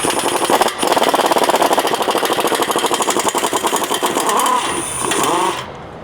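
Pneumatic impact gun fitted with a 12-inch extension hammers loose bolts on a Ford, a loud, continuous rattling burst running for several seconds before cutting off.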